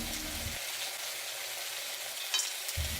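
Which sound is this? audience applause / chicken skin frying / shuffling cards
chicken skin frying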